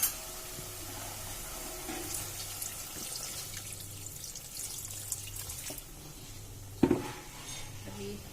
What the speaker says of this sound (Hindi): और थोड़ा पानी डालूंगी इसमें।